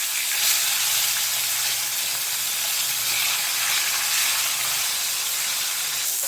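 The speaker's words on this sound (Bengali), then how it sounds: "উল্টিয়ে আরেক পাশ ভেজে নিচ্ছি" Rohu fish, flipped over to cook the other side, sizzles in hot oil with a bright, steady hiss and crackle, close and even throughout, with no voices.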